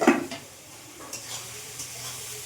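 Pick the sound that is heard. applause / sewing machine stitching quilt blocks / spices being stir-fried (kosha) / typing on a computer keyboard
spices being stir-fried (kosha)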